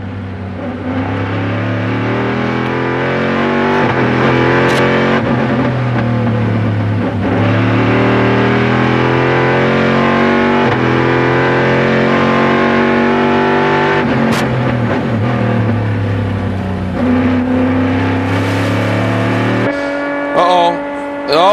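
Corvette C6R and Aston Martin DB endurance race cars at full speed on an American Le Mans Series track, loud engines wailing, rising and dropping in pitch through gear changes with cars passing, under continuous commentary.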